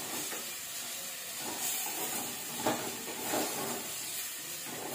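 Ginger garlic paste frying in hot oil while being stirred, giving a steady soft sizzle and hiss throughout with a few brief scraping stir sounds, and no talking.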